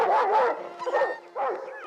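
A family dog barks at a small creature, a few sharp, excited barks and yips in quick succession, close and fairly loud with brief gaps between them.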